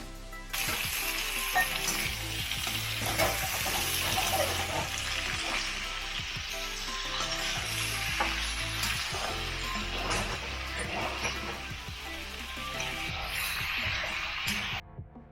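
Whole spices and onion for a kadai paneer paste fry steadily in a pan, a loud continuous sizzle with occasional stirring scrapes and clinks.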